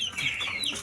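A chicken gives a short, close cluck, brief and clear with no other sound around it.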